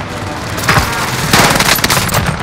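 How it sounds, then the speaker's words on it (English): Precision airstrike in Call of Duty Warzone: a dense, loud barrage of rapid blasts and crackling explosions, with heavier bursts partway through, sustained across the whole moment. "Target area's marked. Enemy precision airstrikes."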